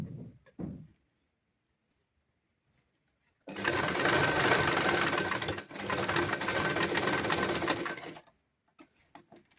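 Sewing machine stitching a child's garment in a basic tailoring lesson, a loud continuous whirring run of about five seconds with a brief pause partway through, preceded and followed by small handling clicks.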